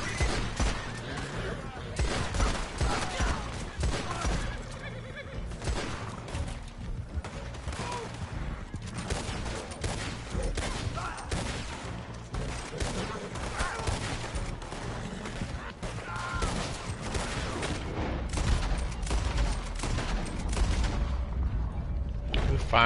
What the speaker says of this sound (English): Firing at the air and everything.